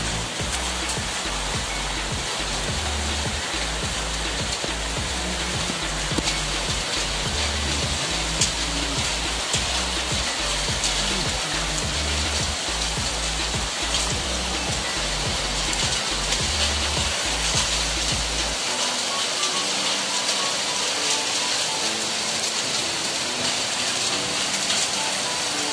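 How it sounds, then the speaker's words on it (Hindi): Heavy rain falling in the mountains around a Jammu village: a dense, steady downpour that hisses continuously and loudly for the whole stretch, with a low rumbling layer underneath that drops away near the end. "जब पहाड़ों में बारिश लगती है तो कुछ ऐसा लगती है।"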